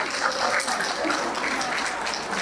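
Audience applause at a Bamileke community federation gala in Canada, a sustained, even patter of many people clapping in a hall, moderately loud and unbroken for the whole stretch.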